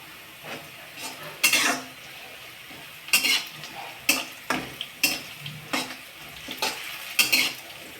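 Onion frying in a pan for cowpea curry, soft sizzle under repeated scraping and clanking of a spoon against the metal pan in irregular bursts.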